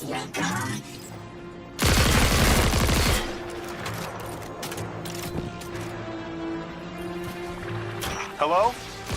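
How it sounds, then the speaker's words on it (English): A loud close burst of rapid gunfire from a weapon in Destiny 2 lasts about a second and a half, followed by scattered fainter shots and mechanical clicks while a person talks throughout. "And I'm shooting."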